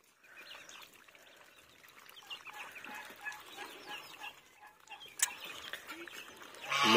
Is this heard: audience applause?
no